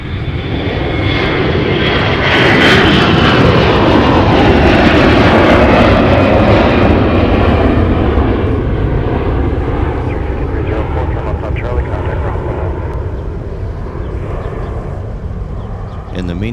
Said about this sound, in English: we just caught a quick departure off to Orlando, Florida. That's Delta Airlines Flight 2209, operated this morning by a Airbus A321.